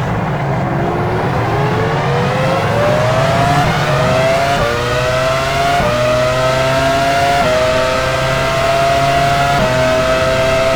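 Formula One cars in the racing game F1 Challenge 99-02 at the 2001 Canadian Grand Prix in Montreal, engines droning steadily and rising in pitch as the cars run into the pit lane. The engine noise is loud and continuous, with several cars layered over one another.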